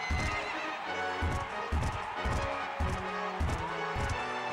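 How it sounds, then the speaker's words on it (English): Racehorses in the video game Gallop Racer 2004 neigh loudly over a rhythmic, repeating clip-clop of hooves, the whinnies sounding close and prominent with no talk. "The horses are on the track."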